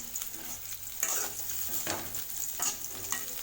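Seedless rings cut from 300 g of bitter gourd sauté in oil over a low flame for a tamarind kuzhambu, a steady close sizzle broken by a few spoon strokes through the pan, with no voices.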